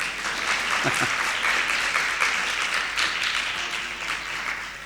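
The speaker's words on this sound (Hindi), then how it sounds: "वरिष्ठ के विद्यार्थी जोरदार तालियां बजा रहे हैं" Senior students at a seminar give loud, sustained applause, a dense wash of many hands clapping steadily with no gaps, close and filling the room.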